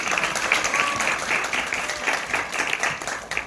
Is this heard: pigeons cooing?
no